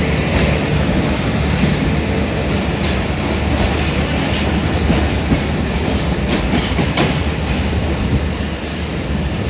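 A train on Pakistan Railways, near the 39 Down Jaffar Express, rumbles loudly and continuously up close, with dense rolling wheel noise and faint clattering steady throughout.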